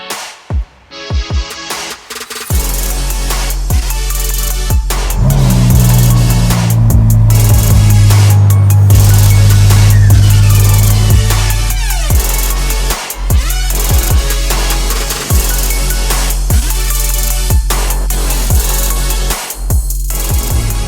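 A Ferrari SF90 Stradale sports car starts up after a short quiet spell, then its engine runs loud and steady with a low drone, a rising tone in the middle and scattered clicks and knocks, with no talking.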